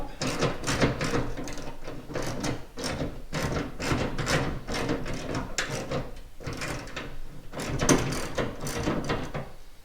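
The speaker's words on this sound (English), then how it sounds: "we got a 12mm socket. I'm just going to loosen these up." A ratchet fitted with a 12mm socket works bolts loose on a Mitsubishi Outlander, giving rapid clicking bursts in repeated strokes, close by and fairly quiet, with small clunks of the tool between them.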